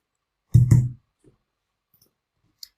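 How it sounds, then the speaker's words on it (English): Computer keyboard keys are struck hard during a live crypto futures trading session, giving two heavy, close thumps in quick succession and then near silence with a faint tap or two. "I'm hitting the keys hard."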